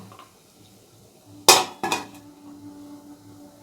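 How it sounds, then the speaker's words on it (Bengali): A metal steamer lid lifted off after steaming momos, giving a sharp metallic clank followed quickly by a second smaller clatter, loud against a quiet background. "এবার আমি ঢাকনাটা খুলে দিচ্ছি দেখো মোমো একদম হয়ে গেছে"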